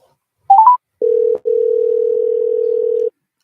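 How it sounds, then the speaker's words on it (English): A telephone line on an outgoing call gives a short run of rising dial tones, then a steady ringback tone that breaks briefly and resumes for about two seconds, loud and clear with no talking. "You hear it ringing?"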